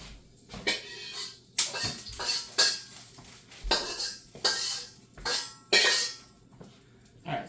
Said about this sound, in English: Now let me clean the wok.